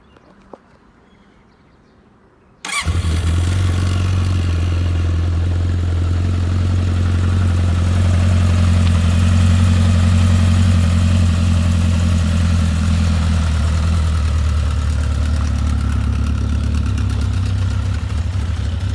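A Honda CB900F motorcycle engine catches on a cold start and settles into a loud, steady, rumbling idle close by, running without a break after the initial firing.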